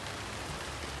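Heavy rain pours steadily onto a garden with leafy vines on a trellis, a dense, continuous hiss of drops filling the air at close range with no voices.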